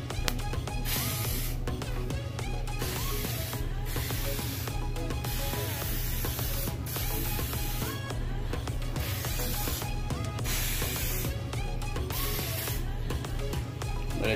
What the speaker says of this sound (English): I'm gonna shake this can up for a little bit. And we're gonna begin spraying that off the edges.